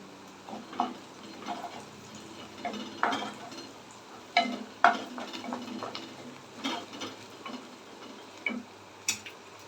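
Onions and broken green chillies sautéing in a pan for egg curry, heard as a soft frying hiss beneath a steady series of close spatula scrapes and taps against the pan, with no voices over it.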